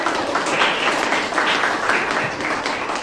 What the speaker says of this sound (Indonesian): Beri tepuk tangan sekali lagi